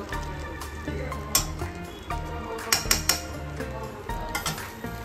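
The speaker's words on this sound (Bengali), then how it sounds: "রোস্ট করছি বাদামগুলো" Peanuts roasting in a pan with very little oil as a utensil stirs them, giving soft scraping and repeated metallic clinks and taps against the pan at an uneven pace, close by.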